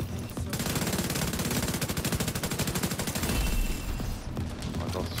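Rapid automatic gunfire in a video game as a player shoots out a turret, a dense steady burst of loud rounds lasting several seconds and then trailing off into the background din.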